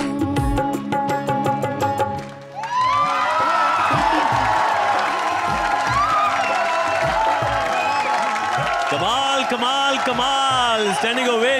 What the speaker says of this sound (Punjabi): Standing ovation, that's great.